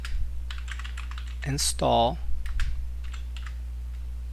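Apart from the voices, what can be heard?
typing pip install command on computer keyboard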